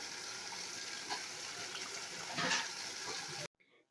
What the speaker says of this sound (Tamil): இது கூட கொஞ்சமாக தண்ணி சேர்த்துக்கலாம்.